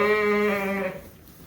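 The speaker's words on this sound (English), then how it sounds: "Oh, that's that sheep in the back corner there" A sheep in the back corner of a lambing barn, unwell and under medication, gives one long, loud, wavering bleat close by. The call cuts off sharply about two-thirds of the way through, leaving quiet barn ambience.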